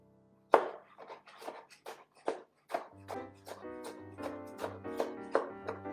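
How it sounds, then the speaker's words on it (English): A knife chops through pear slices on a cutting board, cutting them into matchsticks. It makes a series of close, crisp thuds at an irregular but steady pace, with no talking. "And simply cut the length of these slices into matchsticks."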